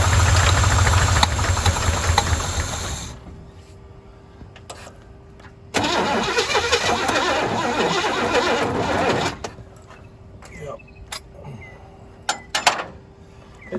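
A neglected 1981 Chevy K10 truck engine runs roughly with the choke set, loud at first, then dropping away. It returns in uneven, sputtering stretches, followed by scattered clanks and quieter gaps.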